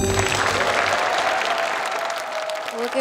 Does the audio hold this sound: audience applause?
yes